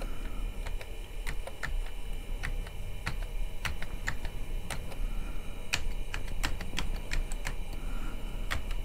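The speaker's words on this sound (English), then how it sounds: "I'm just randomly flailing around on the keyboard at this point." Someone types on the keyboard of an IBM 5150 clone, producing rapid, irregular clacky keystrokes in uneven bursts over a steady low hum. The sound stays close and clear throughout, with no speech.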